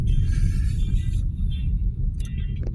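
Stalled road traffic with motorcycles near C5 in the Philippines: a continuous loud low rumble of idling engines, with hissy upper noise fading in and out and a brief sharper burst near the end.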